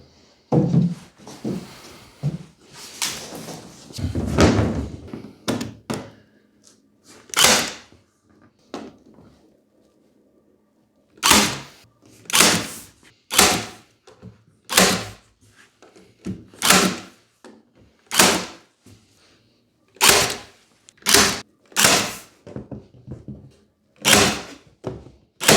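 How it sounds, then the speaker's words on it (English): A back panel being stapled onto a wooden bookcase: a run of sharp, loud staple-gun snaps spaced a second or so apart, with a few earlier knocks and handling noises. "the last thing left to do is to staple the back panel on"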